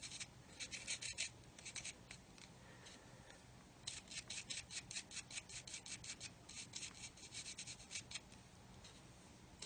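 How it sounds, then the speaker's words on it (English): Fiberglass pen scrubbing excess glue off the edge of a 1/32 scale plastic model aircraft, faint, quick rasping strokes repeating in short bursts close by. "The other thing you can use is your good old fiberglass pen, and just scrub along the edge like that"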